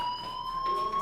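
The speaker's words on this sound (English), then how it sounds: "Hey, do you hear that fire alarm?" In the video game Life Is Strange, a fire alarm rings in a continuous, steady electronic tone, loud and unbroken throughout.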